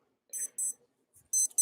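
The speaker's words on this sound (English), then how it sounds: "So that's my timer" A timer alarm sounds a series of sharp, high electronic beeps, two quick pairs separated by a brief silence, loud and close with nothing else behind them.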